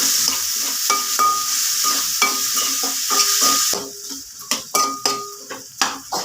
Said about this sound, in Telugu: ఇవి కూడా వేసుకుని కొంచెంసేపు దూరగా వేయించుకుందాం